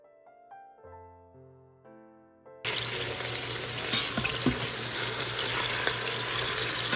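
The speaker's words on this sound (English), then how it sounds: "While the meat continues to brown" Meat browns in a pot as an even, loud sizzle that starts suddenly partway through, after a stretch of soft background music, and continues steadily with faint clinks.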